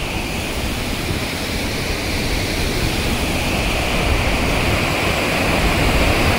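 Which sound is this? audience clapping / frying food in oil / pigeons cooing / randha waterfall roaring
randha waterfall roaring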